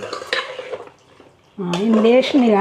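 A pot of Telangana-style boti curry is stirred with oil and turmeric, a spoon scraping and clinking against the metal, soft at first, then louder and busier with a faint sizzle.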